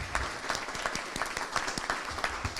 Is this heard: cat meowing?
no